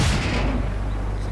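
A single loud, close howitzer blast booms from a tank video game, with a deep heavy thump that rolls off into a fading rumble.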